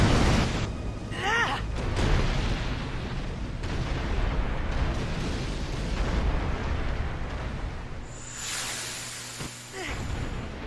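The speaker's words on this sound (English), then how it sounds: "Lots of fancy explosions." Big explosions in the video game Final Fantasy X roar as a dense, rumbling wash of blasts and bursts that runs the whole stretch, with game music and effects layered over it.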